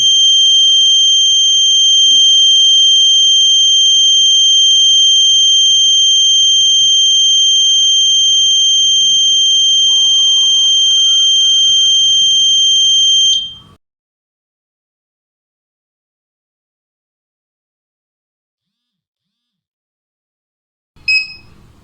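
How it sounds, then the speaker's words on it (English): A loud, continuous electronic alarm buzzer on a face mask detection system drones steadily for about thirteen seconds, then cuts off into silence before a brief blip at the end. "red LED on and buzzer on."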